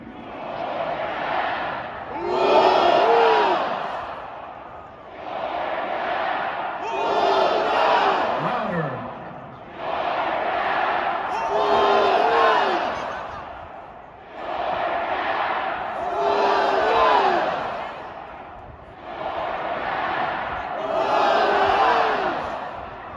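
Georgia Bulldogs fans in a packed stadium roar in repeated rhythmic waves, alternating sides in a loud call-and-response cheer that swells and falls about every five seconds, with crowd voices filling the space.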